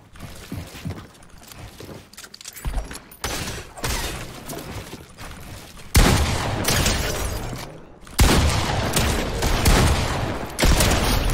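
Gunfire from the video game Fortnite comes in loud, dense bursts of rapid shots with mechanical clatter, growing heavier and more sustained toward the end, with no talking.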